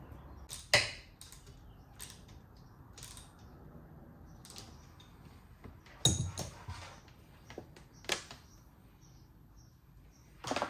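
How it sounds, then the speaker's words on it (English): Hardware being bolted down while fitting an aftermarket fuel gauge to a 1990 Sea-Doo SP jet ski: scattered sharp creaks and clicks of tools and screws, with a few louder knocks over a quiet room background. "Go ahead and bolt that down."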